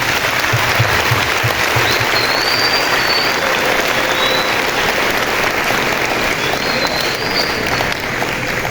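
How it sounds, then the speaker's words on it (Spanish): Audience at an educational talk on climate change giving sustained, loud applause for nearly nine seconds, dense and even throughout, with faint voices mixed in. "vamos a darnos un fuerte aplauso en la mañana de hoy todos"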